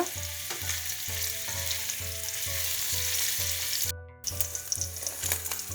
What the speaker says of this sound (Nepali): म चाहिँ केही बेर यसलाई फ्राई गरेर राख्दैछु।